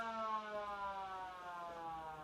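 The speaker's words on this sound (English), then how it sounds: "the siren goes for the second half" A steady, wailing siren sounds over a country football ground in Narembeen to start the second half of a reserves or league match, a long sustained tone heard at a distance with no talk over it.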